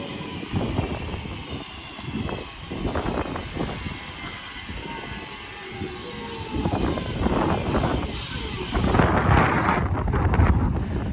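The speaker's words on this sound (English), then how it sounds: "Train now departing is a 323 going to Liverpool Lime Street" A class 323 electric train pulls out of Roby station toward Liverpool Lime Street, its loud rumble and clattering wheels building steadily, with squealing wheels and wind buffeting the microphone.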